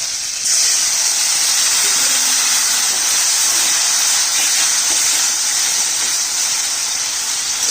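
Water poured into a hot pan of spices, including chili powder and Kashmiri chili powder, sets off a loud, steady hiss that runs for several seconds.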